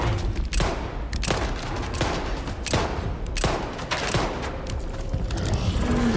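Video game gunfire: dense, sustained bursts of shots with loud cracks recurring roughly every half second over a constant background rattle and rumble, heavy and continuous throughout with no voices.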